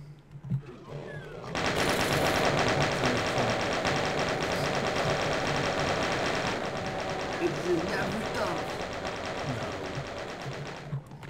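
Sustained rapid machine-gun fire from the video game Doom 1 in co-op play, a dense continuous burst running loud and close for most of the stretch, with players' voices talking over it.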